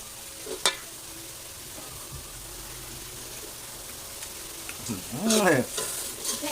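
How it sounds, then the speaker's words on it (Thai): Roasted chili paste and minced pork being stir-fried in a pan: a soft, steady sizzle with occasional scraping strokes of a spatula, a brief louder scrape near the end, close and without talk. "ตอนนี้เราก็ผัดจนงวดแล้วครับสุกแล้วครับ"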